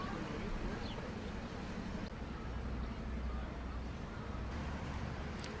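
Steady broadband rumble of a passing truck and road traffic along a beachfront promenade in Palmanova, Mallorca, fairly faint and continuous with wind-like noise and no distinct breaks.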